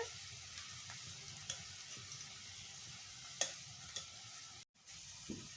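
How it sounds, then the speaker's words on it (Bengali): Dried chilli, bay leaf, onion and garlic fry in oil for a meat curry over a wood-fired stove, with a continuous close sizzle broken by a few sharp clinks of stirring. "এখন এর মধ্যে হচ্ছে শুকনো লঙ্কা ফোড়ন তেজপাতা ফোড়ন আর পেঁয়াজ আর রসুন দিয়ে ভাজা হচ্ছে"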